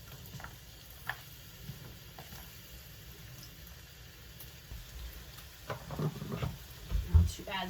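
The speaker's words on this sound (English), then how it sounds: "It says thinly sliced, but I want to caramelize them, so I'm going to add these to the pan" Thinly sliced onions hit a hot pan for caramelizing, a soft sizzle that swells into louder crackling and frying near the end after a quiet start.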